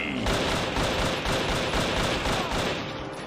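Sustained rapid gunfire from a video game, with dense repeated bursts like a machine gun or a fusillade, loud and continuous throughout and tapering slightly at the end.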